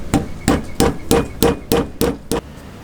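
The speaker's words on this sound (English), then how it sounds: "For the large caps, take a rubber hammer," Eight evenly spaced tapping blows from a rubber hammer on large caps of a Hepco & Becker engine guard on a Suzuki V-Strom 800, dull and close, each a short thud.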